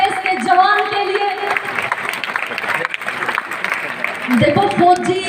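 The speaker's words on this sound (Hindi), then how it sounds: "जोरदार तालियां इस देश के जवान के लिए।" Audience applause at the Lamoria senior secondary school annual function fills the whole stretch, with music playing and someone talking over it.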